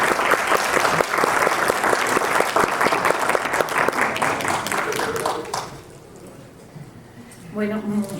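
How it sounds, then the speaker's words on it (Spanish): A crowd at a lecture on codices applauds steadily for about six seconds. The clapping then dies away and a single voice begins speaking in Spanish. "la recibamos con un cordial aplauso."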